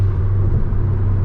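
A stock Ford XR5 Turbo with its resonator deleted idles steadily, a continuous low, loud exhaust rumble held throughout with no talking.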